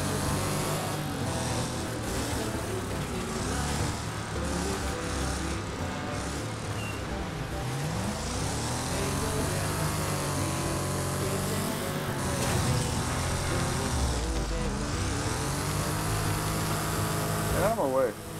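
Steady roaring car engines in the racing game Wreckfest, revving and shifting pitch, loud and continuous, with a voice talking over the top.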